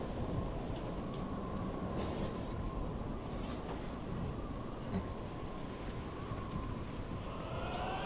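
Steady rain pouring in the video game Divinity: Original Sin Enhanced Edition, a dense continuous hiss of falling drops that stays loud and even throughout with no talking over it.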